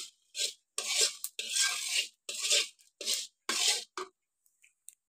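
Dry cumin, fennel, dried chilli, bay leaf and a cinnamon piece being roasted in a pan, giving bursts of close, dry rasping scrapes and rustles in an irregular rhythm with short pauses between.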